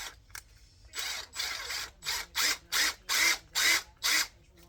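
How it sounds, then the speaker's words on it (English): A power drill bites into rivets on a piece of brass or copper, producing about eight loud, even bursts of whining grind, each roughly a third of a second long with short gaps between, and no voice over them. "I just took my drill and took a few of these, two of these rivets."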